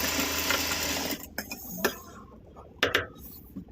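Sewing machine stitching a round fabric handbag, a dense steady mechanical whir for about a second, then stopping, followed by sparse clicks and handling taps.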